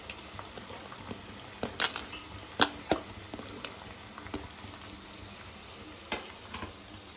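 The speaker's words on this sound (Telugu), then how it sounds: "ఇది మంచిగా నూనెలో పచ్చివాసన పోయే వరకు ఇట్లా వేయించుకోవాలండి." Cabbage fries in oil in a pan, a faint continuous sizzle broken by scattered sharp clinks and scrapes of stirring, heard close and quiet with no voices.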